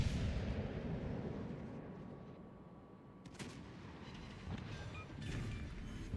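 A Montana battleship in World of Warships fires HE shells: deep rumbling gunfire with sharp cracks around the middle and later in the scene, over a constant low roar of battle noise, moderately distant.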